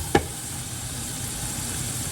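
Chicken, potatoes and onions fry in a covered skillet with a steady, even sizzle, opened by a single sharp clink, and no voices.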